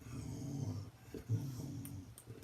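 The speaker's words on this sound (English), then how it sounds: "My dog sounds like she's pretty interested in going outside." A dog makes low, close whining and growly breathing sounds, eager to go outside, with a steady rumbling murmur and one louder snort-like burst midway.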